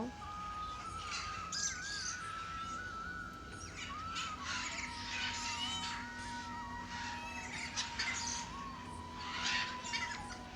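Small colourful birds at Harinalaya, a mini zoo in Kolkata, chirp and tweet continuously, with overlapping high calls over a steady background hum and no talking.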